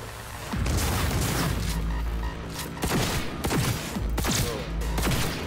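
Gunfire in the video game Cyberpunk 2077 comes as loud, booming shots in quick bursts, several rapid blasts echoing over a low game background.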